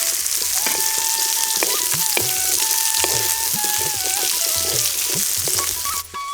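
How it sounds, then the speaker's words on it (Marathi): Chopped onion frying in a pan of oil with garlic, cumin and curry leaves, cooked outdoors in a field: loud, steady close sizzling and crackling with occasional stirring scrapes, no speech. "आता कांदा चांगला लाल होत परतून घ्यायचा"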